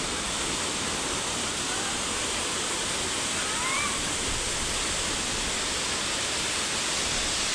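A waterfall in Pokhara, Nepal pours steadily, a dense, continuous broadband roar that stays loud and even throughout, with no other sounds standing out.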